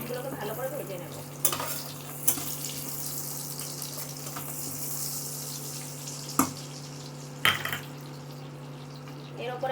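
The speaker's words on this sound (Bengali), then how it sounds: "তো প্রথমে পেঁয়াজগুলোকে ভালো করে ভেজে নেব।" Onions frying in a pan for a Bengali prawn malai curry, a soft steady sizzle broken by a few sharp scrapes and clanks of a spatula against the pan.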